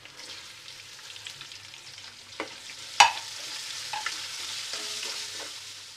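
Onions with fennel seeds fry in a pan, a steady close sizzle, with one sharp clack from a spoon or utensil partway through and a few softer stirring clicks.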